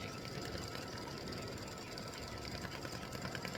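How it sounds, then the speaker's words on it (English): An embroidery machine stitches a decorative fill on a mug rug in the hoop with a steady, rapid mechanical whirring and clatter that runs continuously at a faint, even level. "I will be back when the decorative fill has finished stitching in the center"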